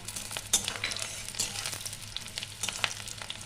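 Six slit green chillies hit hot oil in a pan while cooking egg posto, sizzling steadily with a few sharp pops and spits, close and moderately quiet, with no talking.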